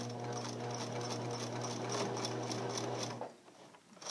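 A sewing machine back stitching a fabric seam, a loud close steady whirring hum for about three seconds that stops abruptly, followed by faint handling noises.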